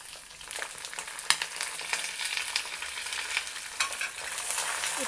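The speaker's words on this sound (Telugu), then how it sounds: "ఇప్పుడు ఈ పప్పులు కూడా కొంచెం వేగాయి, చిట్టుపట్లాడుతున్నాయి" Lentils, ginger, green chillies and curry leaves crackling and frying in hot oil for tempering, a steady close sizzle with scattered sharp pops and stirring throughout.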